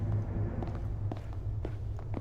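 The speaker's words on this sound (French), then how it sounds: "J'entends des bruits de pas." Footsteps in the horror video game Slender: The Arrival, a handful of soft irregular steps over a low droning ambience.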